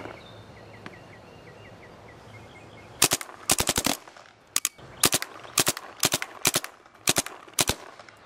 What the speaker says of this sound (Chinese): 玩彩弹射击。